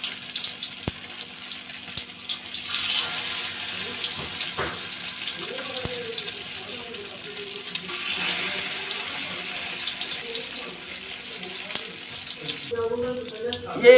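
Beef shami kababs dipped in egg fry in hot oil, a steady, even sizzling hiss that carries throughout while a person talks over it.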